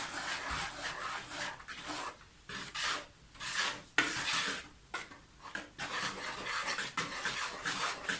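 Bread batter with sugar and baking soda stirred in a bowl, a close, rhythmic scraping and rasping in repeated strokes with brief pauses, no talk.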